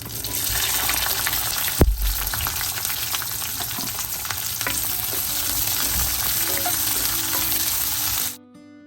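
Shallots and garlic frying in hot oil for a Tamil ground fenugreek curry, a steady loud sizzle with a sharp clatter near the start as they hit the pan, continuing alone until it cuts off.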